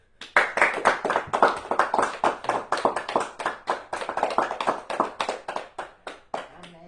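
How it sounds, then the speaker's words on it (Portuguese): A church congregation in São Paulo claps for Jesus in a steady, rhythmic beat of sharp hand claps, loud and close, continuing for several seconds before trailing off. "E as palmas para Jesus?"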